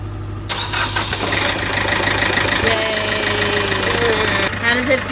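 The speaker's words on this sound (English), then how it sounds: "Start your engine." A boat engine cranks and catches after a new battery goes in, turning over and settling into a rough, steady running rumble under a constant low hum, close by, with voices nearby.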